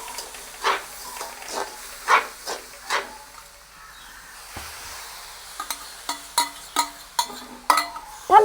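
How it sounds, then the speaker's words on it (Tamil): Milk is poured into semolina roasting in a pan for rava laddu, giving bursts of sharp sizzling hiss that come in rhythmic pulses, fade to quiet in the middle, then return as a quicker series of sizzles. "இப்போ வந்து மில்கை நாங்கள் ஊற்றிக்கொள்வோம்"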